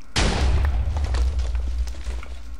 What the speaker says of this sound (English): One explosion from an ender crystal is equivalent to like